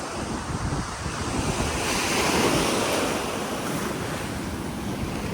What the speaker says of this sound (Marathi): समुद्राच्या लाटा कशा खवळलेल्या आहेत एकदम आणि फुटतात